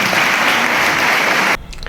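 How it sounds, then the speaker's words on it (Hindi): Loud, dense applause for meritorious CBSE students at an honoring event in Gorakhpur, continuous clapping that cuts off abruptly near the end. "जोरदार तालियां।"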